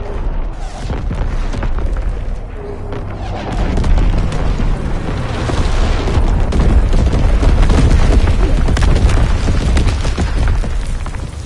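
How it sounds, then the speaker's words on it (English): Incoming enemy artillery in a multiplayer war video game: heavy explosions pound close by in a dense, continuous roar of booms and rumbling blasts, loud throughout with no clear gaps. "Incoming enemy artillery!"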